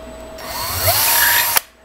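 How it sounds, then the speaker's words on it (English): A power drill whirs at high speed for about a second, its pitch shifting as it bites into 3D-printed plastic, then stops abruptly with a click. "you wanna have high speed, gentle feed because you're drilling through 3D printed plastic"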